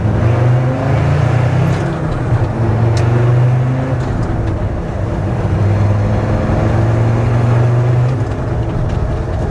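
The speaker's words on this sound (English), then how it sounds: "So we'll give this a little blast out of the roundabout in second gear" A Land Rover Defender Td5 110 fitted with a GTB450 turbo pulls out of a roundabout in second gear, its diesel engine droning loud and close with a steady rising rumble.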